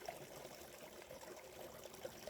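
A small spring on a Georgia trail trickles into a bottle being filled, a faint, steady, gentle water flow with no talking over it.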